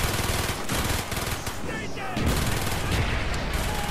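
Rapid sustained bursts of PPSh submachine gun fire in Call of Duty: Black Ops, loud and dense with brief gaps between volleys, over a busy battle background with faint voices.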